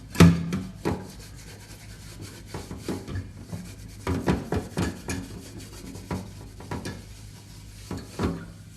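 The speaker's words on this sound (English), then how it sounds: "Gotta scrub this pan off." Candy-making pan being scrubbed clean in a kitchen after cooking edible sugar glass, giving repeated rough rubbing and scraping strokes with occasional clanks, close and fairly loud in uneven bursts.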